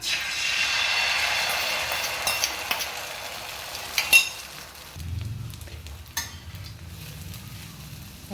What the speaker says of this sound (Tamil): இப்போ தோசைக்கல்லில் கொஞ்சம் எண்ணெய் ஊற்றிடுங்க. இப்போ கலக்கி வச்ச அந்த முட்டையை ஊற்றுங்க.